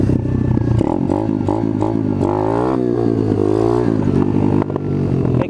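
An Apollo RFZ pit dirt bike engine revving hard while being ridden, a loud close buzzing rasp that climbs and falls in pitch through repeated throttle blips with some mechanical clatter.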